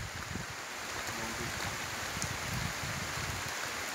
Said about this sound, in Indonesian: Kedinginan, Bro. Hujan.